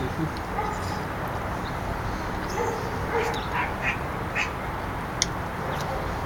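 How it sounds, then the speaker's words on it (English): A large dog barks in the distance amid steady outdoor background noise, with a few scattered bird or duck-like calls. "That's a big dog barking at the neighborhood."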